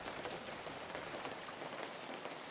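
Steady rain in a fishing video game, an even hiss of drops falling on a surface, continuous and moderately soft, with no voices.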